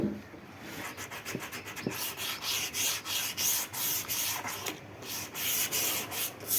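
Wood being sanded by hand with sandpaper, steady close rasping strokes in a repeated back-and-forth rhythm, loud and continuous with no talk.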